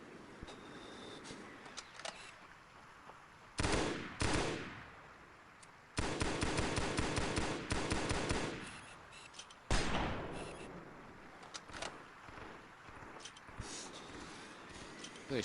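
Bursts of weapon fire in the video game Halo SPV3 come in three loud clusters, one a sustained rapid volley, with quieter scattered shots and game ambience between them.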